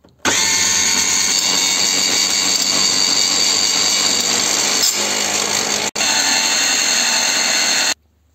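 A food processor whirs loudly as it grinds peanuts into peanut butter, a steady close high-pitched motor drone that cuts out for an instant, then runs on before stopping.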